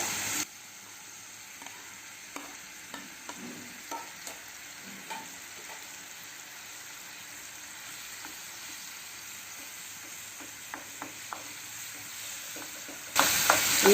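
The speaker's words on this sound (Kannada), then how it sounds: "ಈಗ ನಾನು ಈ ತುಪ್ಪಕ್ಕೆ ಕಟ್ ಮಾಡಿಟ್ಟಂತಹ ಬಾಳೆಹಣ್ಣನ್ನು ಹಾಕೊಳ್ತಾ ಇದ್ದೇನೆ." Cut banana pieces fry in ghee in a pan, giving a soft steady sizzle with scattered clicks and scrapes of a stirring utensil, fairly quiet and close, with no talking.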